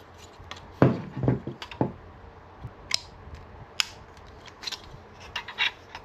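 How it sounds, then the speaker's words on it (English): Tin snips cut through sheet metal for an aircraft nose gear cowling cover, giving a series of sharp close snips and crunches in irregular bursts, with no talking. "we don't have to turn the corner with the tin snips"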